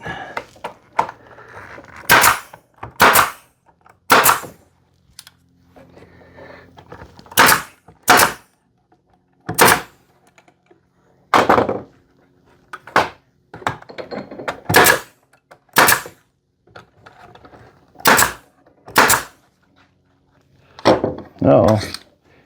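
A pneumatic nail gun fires into wooden boards of a holiday planter, sharp loud cracks arriving singly and in quick pairs with short quiet gaps between them, about fifteen shots in all.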